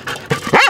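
A search and rescue dog trained for collapsed structures and open rural terrain barks in three loud, close bursts, the last a rising and falling yelp.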